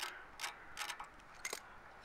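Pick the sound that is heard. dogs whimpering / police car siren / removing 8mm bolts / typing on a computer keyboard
removing 8mm bolts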